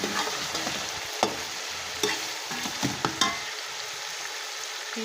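Hot oil bubbles and sizzles steadily in a pot as chicken pulao ingredients deep-fry, with a few brief clanks and scrapes of a spoon stirring, close and continuous without talk.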